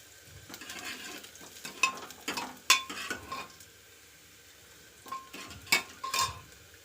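Cumin and garlic fry in a pan with a low sizzle. A metal utensil stirs and scrapes in two clusters, striking the pan with sharp clinks, and there is a quiet pause between them.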